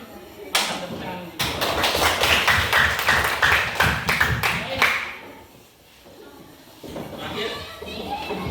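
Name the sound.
students clapping hands in class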